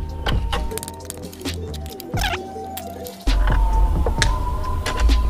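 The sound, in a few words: loosening the front axle of a Jupiter Z1 motorcycle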